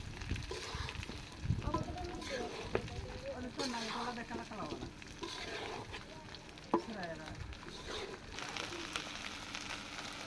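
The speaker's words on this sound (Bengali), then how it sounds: "এবার আমটা কিছুক্ষণ তেলের মধ্যে ভেজে নেব" Mango pieces for a pickle fry in hot oil flavoured with garlic and cardamom, giving a steady crackling sizzle with stirring scrapes, fairly quiet and close, while a voice talks at moments over it.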